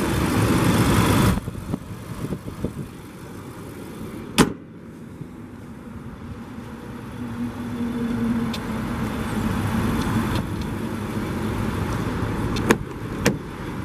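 A 2014 Infiniti QX80 V8 engine idles with a steady low rumble, punctuated by a few sharp clicks and thumps, and no talking.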